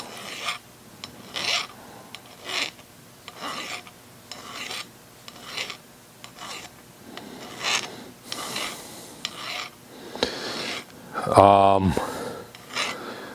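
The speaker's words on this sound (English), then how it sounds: "I'll go around it with a file" A hand file rasps around the edge of a small lathe gear to deburr it, with repeated back-and-forth strokes at a steady rhythm, close and moderately loud, ending in a brief louder scrape.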